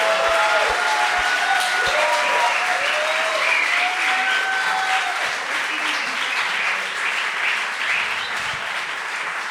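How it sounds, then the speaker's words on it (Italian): A studio audience claps steadily for a guest arriving on an Italian talk show, a dense, even wash of applause lasting several seconds with a few scattered sharp claps at the start. "Signore e signori, per favore un grande applauso per Maccio."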